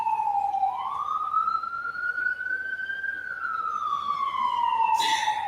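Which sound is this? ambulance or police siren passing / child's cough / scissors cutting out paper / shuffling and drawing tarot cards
ambulance or police siren passing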